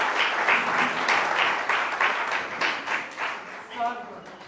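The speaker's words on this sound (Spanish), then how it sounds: "Vamos a darle un aplauso" A church congregation at a Spanish-language service breaks into loud, sustained applause, with dense rhythmic clapping that keeps swelling and pulsing close by.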